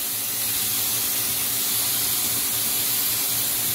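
Andek Cocoon spray coating hisses steadily from a spray gun onto a parcel, a loud, continuous broadband spray with no pauses, close to the listener and alone.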